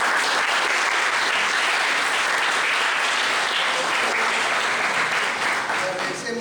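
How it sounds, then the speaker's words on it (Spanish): Sustained audience applause at a political science workshop after an electoral behaviour lecture, dense even clapping from a room of listeners that holds steady and eases slightly at the end. "Le damos un fuerte aplauso."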